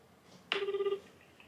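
A telephone ringback tone on a call to Hiroshima Bank's customer service line: one clear, fairly loud ring of about half a second, then quiet line hiss.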